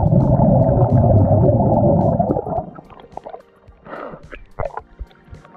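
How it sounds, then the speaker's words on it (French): A swimmer blows air out through the nose underwater during a front crawl flip turn, a dense gurgling rush of bubbles for about two seconds, then faint bubbling and scattered drips. "Expiration sous l'eau, inspiration hors de la surface."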